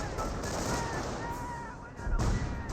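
Rapid gunfire and machine-gun bursts from a Company of Heroes 1 battle, dense crackling shots with heavier booms, underneath a commentator's voice.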